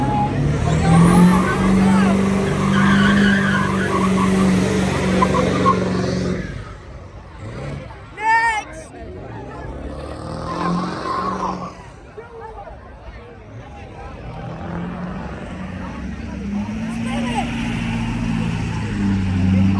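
A car doing burnouts at a car meet, its tires squealing in a long, loud, high screech with the engine revving, followed by a crowd cheering and shouting.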